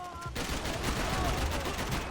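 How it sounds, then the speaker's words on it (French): Magnum revolver firing in Max Payne 3, a dense stretch of loud, overlapping gunfire and action noise that runs continuously after a brief quieter start. "il claque par contre le Magnum"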